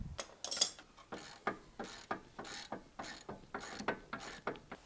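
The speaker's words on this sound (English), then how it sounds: "I do like these new style Halfords ratchets. Really nice and long, lovely fine toothed ratchet on them." A long, fine-toothed Halfords ratchet clicks in quick repeated bursts, about two to three strokes per second, close and crisp, during a brake overhaul on a 4.4 TDV8 Range Rover L322.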